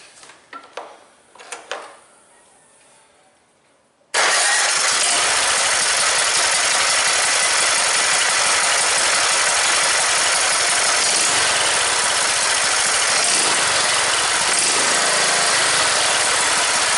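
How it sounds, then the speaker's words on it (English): A small engine with its valve cover removed is pulled over with a few quick cranking bursts, then catches abruptly and runs steadily at a loud, even idle with mechanical rattle and clatter for the remaining dozen seconds. "I'm going to give it just a quick crank without the valve cover on."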